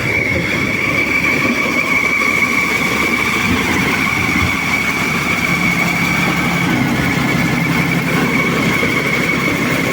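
A threshing machine processing hulless pumpkin seeds runs steadily with a loud, continuous mechanical drone and a slight rattling shake, close by and alone.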